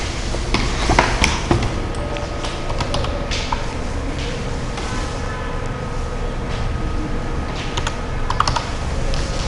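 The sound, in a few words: pressing space bar on computer keyboard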